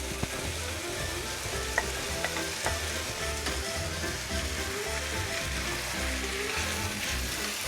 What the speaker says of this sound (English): I'm going to add in the fresh, blanched, chopped, semi-pureed tomatoes.